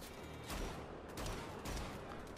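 Dual AK-47s fire in the video game Wolfenstein: The Old Blood, loud, continuous, rattling automatic bursts that swell in three pulses with no pauses and no voices.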